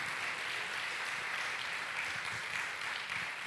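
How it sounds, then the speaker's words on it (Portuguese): A church congregation applauds, a steady, fairly faint wash of clapping that holds evenly throughout with no voices on top. "Aplauda o Senhor Jesus."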